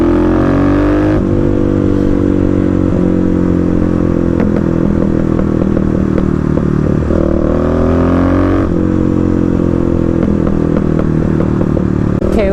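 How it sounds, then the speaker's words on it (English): A Kawasaki KLX351 dirt bike rides off-road past a wall, its single-cylinder engine loud and close, throttling steadily with clatter and rising and falling revs, a deep rumbling tone throughout. "KLX almost sounds like a Harley going by that wall."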